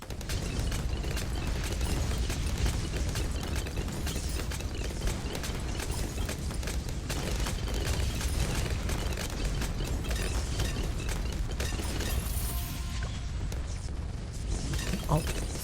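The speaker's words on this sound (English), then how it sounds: "We love machine gun, holy heck." Machine-gun fire in a video game, a dense, continuous rattle of rapid shots with bursts and pops that stays loud and steady for the whole stretch.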